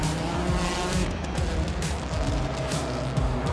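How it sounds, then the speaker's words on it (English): Rally car in the Olympic Stadium of Athens special stage at the Acropolis Rally Greece 2022, sliding with loud engine roar and tire noise into a barrier, a continuous dense rush with sharp scraping hits, no talk. "Lappi slid into a barrier and clattered his rear left wheel."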